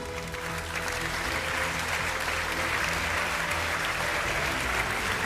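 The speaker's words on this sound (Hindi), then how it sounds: "आइए तालियों के साथ स्वागत करते हैं अपने पहले 2 वक्ताओं का।" Dense, continuous applause from a studio audience on a Hindi television debate show welcoming the first two speakers, a sustained roar of many hands over a low hum, steady and unbroken throughout.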